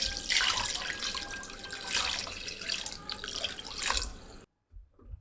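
Water pours steadily into a pot of turmeric-seasoned mutton for Quetta-style namkeen gosht rosh, a continuous splashing gush that stops abruptly near the end, leaving a short quiet gap.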